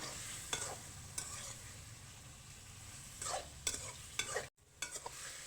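Garlic paste and chicken fry in a pan for chicken nihari, with a soft steady sizzle under scattered stirring scrapes and clinks of a utensil against the pan, close and fairly quiet.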